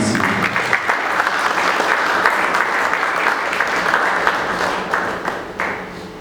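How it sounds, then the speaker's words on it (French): Sustained audience applause fills a hall at a 30th anniversary celebration of Maison DA+ at the Hilton Hotel, a dense, steady wash of many hands that holds strong throughout before easing slightly at the very end. "Sous nos applaudissements."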